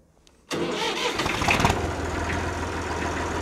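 A Massey Ferguson 6445 tractor engine cranks and catches after a short quiet moment, then settles into a loud, steady diesel rumble close by.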